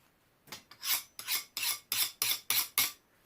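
A metal file rasps along the top spine of a pipe wrench in seven rhythmic strokes, each a harsh gritty scrape that builds and cuts off, close and alone.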